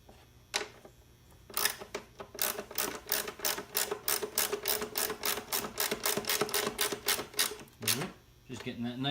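A 10mm bolt tightened on the battery of a 2011 Mazda3 2.5L, heard as a rapid, even series of close ratchet clicks running for several seconds before stopping.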